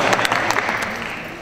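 Audience applause at a Georgia Secretary of State Republican candidates debate, a brief burst of clapping from the crowd that fades quickly.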